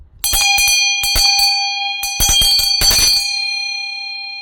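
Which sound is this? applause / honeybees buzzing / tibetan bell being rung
tibetan bell being rung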